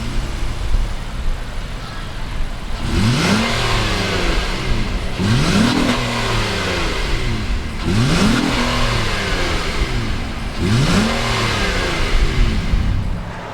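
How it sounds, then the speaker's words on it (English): A 2019 Honda Ridgeline's V6 engine idles steadily and revs up sharply four times at even intervals, each rev rising and falling back, close and loud. "Let's go ahead and fire up this V6 and see what it sounds like."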